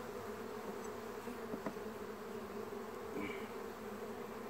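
Honeybees drone in a continuous dense buzz inside a hive with a laying queen, steady and close with no voices.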